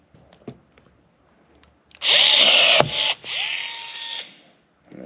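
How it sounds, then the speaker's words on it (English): Pneumatic rivet tool pulling a countersunk rivet on an aluminum panel of a Zenith Super Duty kit aircraft, heard as two loud, close hissing-whining pulls of about a second each, the first ending with a sharp snap, after quiet workshop taps. "So now we'll go ahead and try and pull the first rivet."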